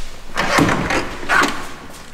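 The rear door of a 1939 Cadillac limousine opens with a couple of close, muffled thumps and clunks from its heavy latch and hinges, spread over about two seconds.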